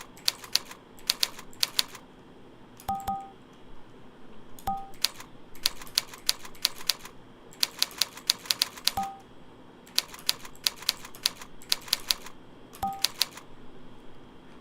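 Touch typing practice on a keyboard: bursts of rapid, crisp key clicks in irregular clusters, close and clear, punctuated by short tonal beeps from the typing software.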